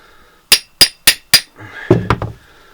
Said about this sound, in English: just give it a very light tap with the hammer